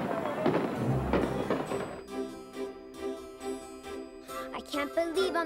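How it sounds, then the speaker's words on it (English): A fireworks display at an evening celebration crackles and pops in rapid bursts over a dense musical background, steady and moderately loud throughout. "And a fireworks display ended an enchanted evening."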